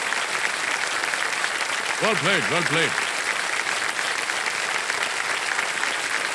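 Studio audience applause during the KBC Season 17 TV quiz show rolls on as a steady, dense wash, while the host speaks briefly over it.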